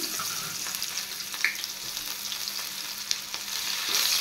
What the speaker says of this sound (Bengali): এবার পেঁয়াজগুলো আমি একটু হালকা ফ্রাই করে নেব।